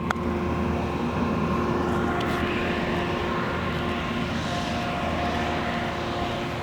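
A tractor drives past on a golf course, a steady, loud engine drone that holds level throughout with no talking over it.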